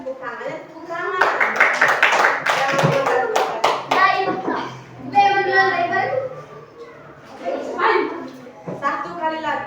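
Schoolchildren in a primary classroom clapping hands, bursts of rhythmic claps mixed with children's and an adult teacher's voices talking over them.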